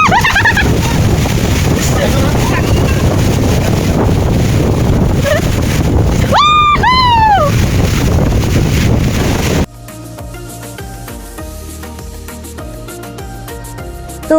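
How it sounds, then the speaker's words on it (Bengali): Strong wind at a beach during heavy rain, roaring and buffeting the microphone loudly and continuously, with a brief warbling call partway through before the sound abruptly drops to a quieter, different texture. "বাতাসের সাউন্ডে অবশ্যই আশা করি বুঝতে পারছেন যে কি পরিমাণের ওইখানে বৃষ্টি হয়েছিল"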